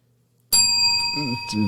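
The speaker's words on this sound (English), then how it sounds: "Weather bell ding" A bright bicycle-style bell dings once after a moment of near silence, its ringing tone sustaining clearly while a voice talks over the fading chime.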